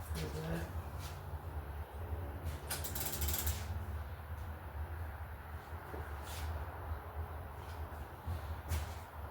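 Bicycle chain threaded through the drivetrain of a 1972 Schwinn Super Sport during a 700C conversion, quiet metallic clicks and ratcheting rattles with a few brighter clanks, close and soft, and no voices.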